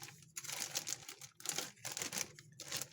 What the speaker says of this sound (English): fresh spinach that we put in a plastic bag with some paper towel